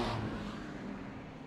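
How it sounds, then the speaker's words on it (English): A Ginetta race car engine running rough during a circuit race, a brief low, loud rumble that fades slightly as the car moves away, alone. "That engine doesn't sound great."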